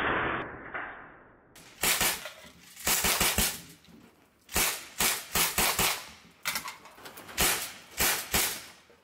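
A Gen 2 Sig Sauer MPX .177 CO2 pellet rifle fires a full 30-round magazine of 8.44 grain JSB pellets, with sharp, close cracks in rapid bursts and short pauses between strings of shots.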